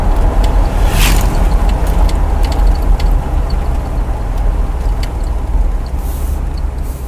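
The engine of a 1977 Corvette barn find runs with a loud, steady rumble, burning off old leaked oil. The engine noise stays constant throughout with no pauses.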